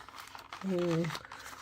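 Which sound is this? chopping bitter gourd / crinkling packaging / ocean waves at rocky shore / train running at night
crinkling packaging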